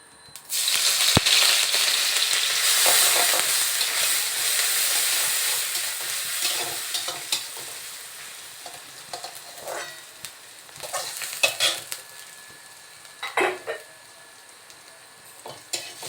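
Grated onion sizzles loudly as it is added to hot oil with nigella seeds, the frying settling down while a utensil stirs and scrapes intermittently.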